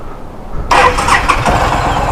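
A cruiser motorcycle engine starts on a cold day, a sudden loud catch into a rough, rumbling idle after a moment of quiet.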